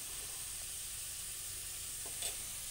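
Garlic sautéing with salt in a pan, a quiet, continuous sizzle and hiss with one faint clink of a utensil near the end.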